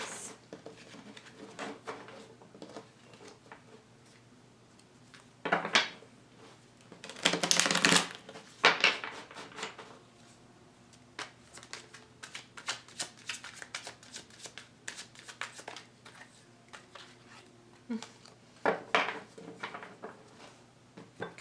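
Tarot cards shuffled during a card reading, with soft riffling and patters alone in a quiet room, rising to a few louder bursts of rapid shuffling midway.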